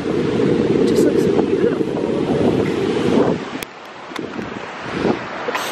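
Strong wind buffets the microphone as ocean waves wash onto a beach, a loud, steady roar that eases partway through, with brief voices and faint sounds nearby.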